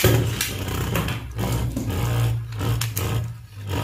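A Beyblade top launched from a Geist Fafnir launcher set, spinning in a plastic arena with a continuous whirring rattle and scraping knocks, close and loud, no talk.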